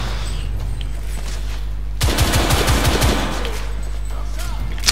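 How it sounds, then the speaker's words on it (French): Rapid bursts of gunfire in The Order: 1886, a loud cluster of close shots packed into about a second, then lingering echoing reports over a steady background hum. "mais tire en rafale"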